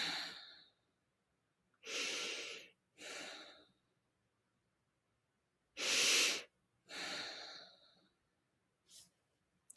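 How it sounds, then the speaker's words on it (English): Slow mindful breathing: about five long, soft breaths in and out, close and quiet, separated by silent pauses, with no talking. "Just close your eyes and take 3 just mindful breaths."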